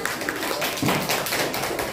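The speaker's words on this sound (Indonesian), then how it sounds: "Yuk tepuk tangan." Audience in a classroom presentation clapping together, a dense patter of hand claps filling the whole moment at moderate loudness without pause.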